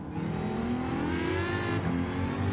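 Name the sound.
Aston Martin race car engine in Gran Turismo video game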